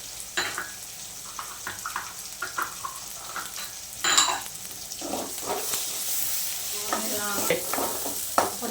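Turmeric fries in hot oil for an okra curry, a soft continuous sizzle broken by irregular scraping stirs of a spoon against the pan, close by with no talking.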